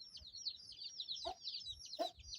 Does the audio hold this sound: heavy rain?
no